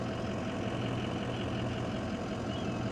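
An old fire truck engine idles roughly through a holed exhaust, giving a loud, steady, continuous rumble with no pauses and no voices.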